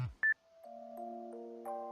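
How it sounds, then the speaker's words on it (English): A cell phone ringtone plays a short electronic melody of sustained, stepping tones, faint and alone in a quiet room, after a brief louder blip at the start. "The cell phone in Shigure's hand stopped ringing."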